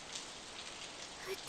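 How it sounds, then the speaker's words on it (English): Steady rain falling in the video game Steins;Gate 0, a faint, even hiss of drops holding constant throughout with no other clear sounds. "It started to rain."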